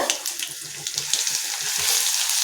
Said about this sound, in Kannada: ಅದನ್ನು ಇದಕ್ಕೆ ಹಾಕ್ತೀನಿ ಇದನ್ನು ಚಲೋತ್ನಂಗೆ ಫ್ರೈ ಮಾಡ್ಕೊಳ್ಳೋಣಂತ